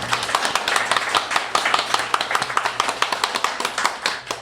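A ghost-story audience claps in a brisk, sparse patter of individual hands, close and distinct, lasting several seconds.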